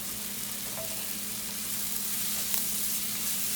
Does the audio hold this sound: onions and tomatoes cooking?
yes